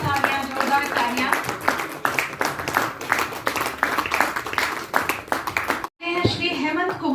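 Loud, continuous clapping from a crowd at a national meeting runs beneath a voice that keeps speaking, with a short break near the end.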